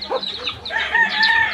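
A rooster crows loudly nearby, its long strained call rising over softer clucking from other fowl in the background.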